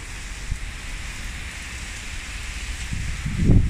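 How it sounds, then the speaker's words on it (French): Rain and hail come down outdoors as a dense, steady hiss of drops hitting surfaces, with soft rustling and a louder rush of close patter building near the end, and no voices. "Il pleut, il y a des grêles et tout qui tombent."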